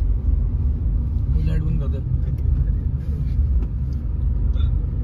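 Slow-moving car at night on a dark road near Ajitgarh, a steady low engine and road rumble running throughout, close and continuous, with people talking over it inside the vehicle.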